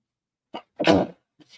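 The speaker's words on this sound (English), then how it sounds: "Starting that sneezing again." A single sharp, close sneeze with a small intake before it, followed by brief quiet breaths, alone in otherwise silent surroundings.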